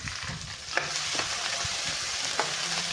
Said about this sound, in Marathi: आता हे अद्रक लसूण आपण वाटून घेतलेलं आहे उघडून ते टाकून देणार आहे